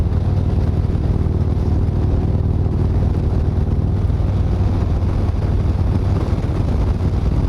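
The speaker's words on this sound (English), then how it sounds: "Damn, it's windy." Strong wind buffeting the microphone in a constant low roar, loud and unbroken throughout, with no voices.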